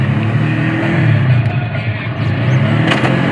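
A small auto rickshaw engine drones and revs steadily up close, a rough continuous motor noise with no talking.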